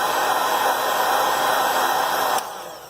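A heat gun blows a loud, steady, broadband whoosh over the back glass of a Google Pixel 3 XL, then cuts off abruptly near the end and leaves a faint hum.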